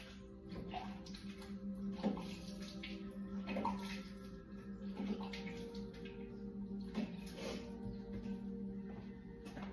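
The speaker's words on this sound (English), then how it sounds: "I'm washing my hands" Running tap water splashes steadily while hands are washed, with soft irregular patters and clinks over a constant gush, fairly quiet and alone.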